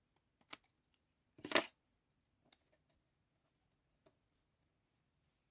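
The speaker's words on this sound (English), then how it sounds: "Handy scissors." Handy scissors snipping through paper or vellum at a craft table, one short burst of crisp cuts followed by a few faint scattered clicks and taps in a quiet room.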